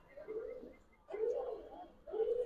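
A Giribaz pigeon, a hen handled by a pigeon seller, gives low soft cooing in three swelling phrases, close and fairly faint.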